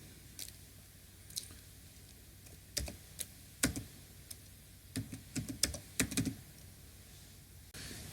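Keys on a computer keyboard are tapped while data is entered into an Excel sheet, with quiet, close, irregular clicks in short bursts and pauses and no talking.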